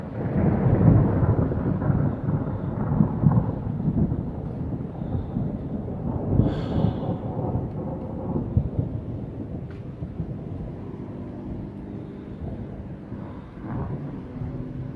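Thunder rolls in long, deep rumbles during a Thanksgiving thunderstorm, with rain and wind buffeting the microphone outdoors, loudest at the start and easing into a lower distant grumble.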